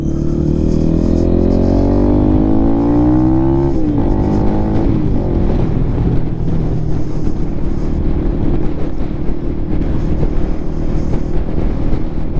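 A Lifan KPM 200 motorcycle fitted with a new exhaust runs steadily while riding on a cold day, its engine drone loud and continuous, rising in pitch then shifting down with a gear change, under heavy wind rush.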